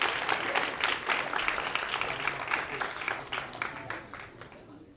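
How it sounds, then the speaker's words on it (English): Audience applause at a live magic show: a theater crowd claps fairly densely, then it gradually thins and softens into scattered claps as it fades, with faint voices mixed in. "they'll give you a round of applause as you make your way off stage"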